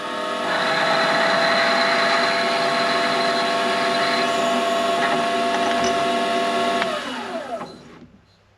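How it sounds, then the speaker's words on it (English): A Warco mini lathe runs steadily while an 11mm reamer is plunged into a soft brass part, a loud constant machine whine with tonal harmonics that spins down and fades out near the end. "using a 11mm reaming tool that I've got, because brass is so soft, I'm going to plunge it in there"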